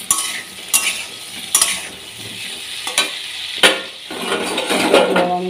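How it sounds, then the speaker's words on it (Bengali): Potatoes and pointed gourd fry in a pan on a home kitchen stove, a steady broadband sizzle with a few sharp utensil clinks and scrapes of stirring cutting through it. "আলু পটলটা ভাজা বসিয়েছি"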